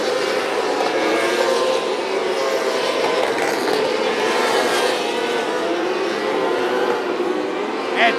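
Micro sprint race cars roaring around the Macon Speedway dirt track in a POWRi Outlaw Micro Sprint League race, a steady loud wash of engine noise from several cars at once with no pauses, heard alone without talk.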